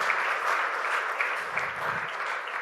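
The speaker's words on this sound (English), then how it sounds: "Request a round of applause for Mr. Anil Agarwal" Steady applause from a seated conference audience at an energy-industry CEO gathering, a dense even clatter of many hands clapping, sustained throughout with no voices over it.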